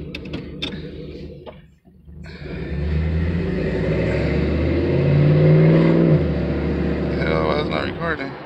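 A 1995 Chevrolet Silverado C1500 with a swapped 5.3 V8 and 4L60E transmission drives with a steady engine rumble that swells and eases. People talk over the sound from inside the cab.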